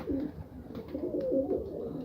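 Pigeons coo softly and repeatedly in low, throaty, rolling calls, several birds overlapping close by with no talking.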